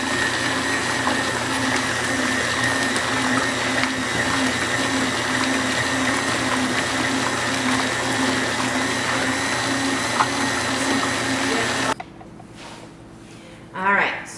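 A stand mixer whisks cream into homemade butter, a loud, steady motor whir with a rhythmic churning hum, which cuts off abruptly near the end, leaving quiet room sound and a brief voice.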